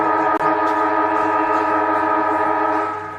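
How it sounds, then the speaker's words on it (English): A football match siren sounds at quarter time in an NTFL Men's Premier League game between St Mary's and Wanderers: one loud, steady, sustained tone held for several seconds that tapers slightly at the end. "the quarter time siren has gone"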